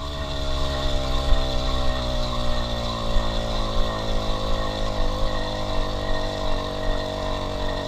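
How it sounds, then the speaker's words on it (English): A motorized bicycle's small engine labors steadily up a steep hill, a continuous buzzing drone with a strong low rumble and rich harmonics, held at a fairly constant loud level throughout without pauses. "I honestly thought the engine would give in, but it just kept going"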